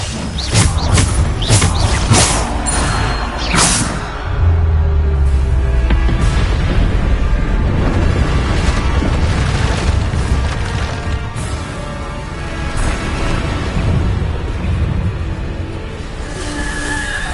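The Bombarda blasting spell going off in Hogwarts Legacy: a loud crackling burst of cracks and splintering at the start, followed by a sustained rumbling, crashing roar of game combat.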